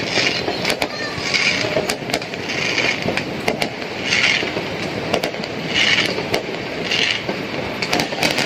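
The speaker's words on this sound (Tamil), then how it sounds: "பட்டாசு வெடிக்கிறது ஃபுல்லா" Deepavali firecrackers burst in a dense, continuous crackle, with sharp louder pops and bangs recurring every second or so over steady background noise.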